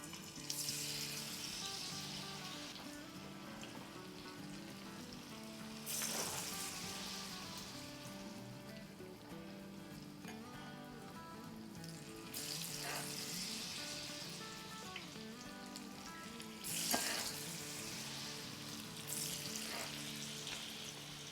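Potato kababs dipped in batter frying in about two tablespoons of oil over a medium flame, a steady close sizzle with louder bursts as each new piece goes into the pan.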